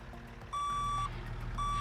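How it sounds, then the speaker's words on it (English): Truck reversing beeper in American Truck Simulator: a loud steady electronic tone sounding twice, a long beep then a second starting near the end, over a constant low engine rumble. "That is a very obnoxiously loud beep."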